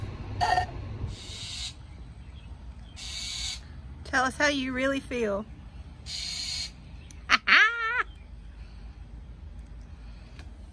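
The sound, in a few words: bird calling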